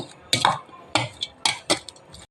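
A metal spoon clinks and scrapes against a bowl while mixing pani puri filling of potato and masala, in several distinct close knocks separated by short pauses.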